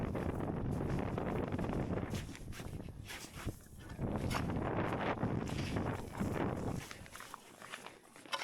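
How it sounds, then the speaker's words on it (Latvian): A strong wind buffets an outdoor microphone on a descent, producing loud, low rumbling gusts that swell and fade unevenly, with faint rustling and possible footsteps mixed in. "Vējš ir stiprs."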